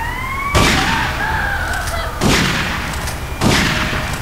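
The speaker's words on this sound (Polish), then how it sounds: "Bo ten dźwięk strzelania z shotguna też już był z tego co pamiętam w trójce GTA" Three loud, booming shotgun blasts in GTA Vice City, spaced roughly a second and a half apart, each with a short echoing tail over a steady game soundtrack.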